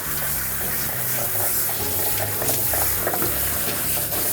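Warm water runs and splashes continuously from a tap or sprayer nearby while washing a Mini Groodle dog, a steady rushing wash with no voices.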